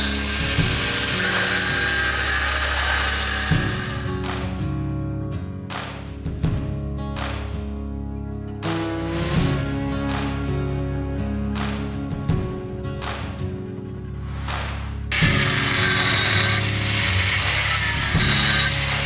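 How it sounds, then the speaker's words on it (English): A power tool grinds and cuts through welds and bolts on a WWII Grant tank under restoration, loud harsh bursts broken by short pauses and metallic rattles, with the machine running continuously at the start and end. "I'm going to cut off these welds that are here, cut off the bolts that are holding it"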